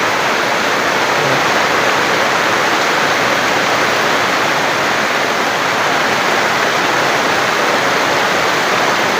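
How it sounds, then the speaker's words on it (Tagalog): Loud, continuous roar of rushing floodwater during heavy rain, a dense steady wash of noise with no pauses, close by and drowning out everything else. "lakas na yung tubig"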